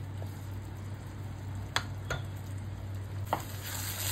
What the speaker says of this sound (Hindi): अब हम थोड़ी देर मटर को पका लेंगे।